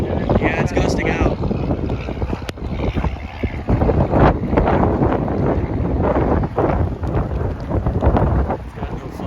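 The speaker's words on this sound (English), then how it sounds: "Yeah, it's gusting out." Gusty wind from a Texas supercell storm rumbles and buffets the microphone steadily during a storm chase, with people talking throughout.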